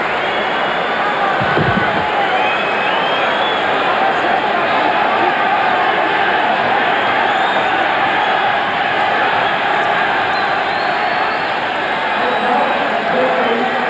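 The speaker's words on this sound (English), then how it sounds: "Drawing huge roars of applause from this packed Royal Albert Hall" Sustained roar of applause and cheering from a packed Royal Albert Hall crowd at a boxing match, loud and continuous throughout, with a commentator's voice underneath.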